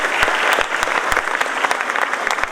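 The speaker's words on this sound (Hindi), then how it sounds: "एक बार जोरदार तालियां हरीश सर के लिए" Audience applause at a Dr. Ambedkar Jayanti gathering, a dense burst of clapping from a crowd honoring a speaker, steady and fairly loud across the moment with sharp individual claps standing out.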